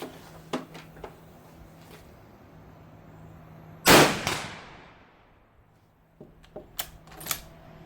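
A Czech Vz 98/22 bolt-action rifle fires an 8x57mm round outdoors, a single loud sharp report with a long decaying tail, framed by faint clicks and handling noises before and after.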